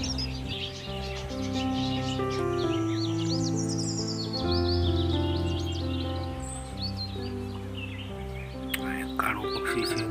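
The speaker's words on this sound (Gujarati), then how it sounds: "અહીં પંખીઓ છે, રંગબેરંગી ચકલીઓ છે, નાની" Small, colourful sparrows chirp and twitter constantly in an aviary with many caged bird species, over a background of sustained music-like tones, with someone talking throughout.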